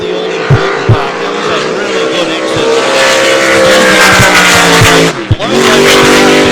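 Mongoose racing hydroplane's engine roaring under held throttle through a turn at Gold Cup practice, a loud continuous engine note rising in pitch with a brief dip near the end, commentary voice faintly underneath.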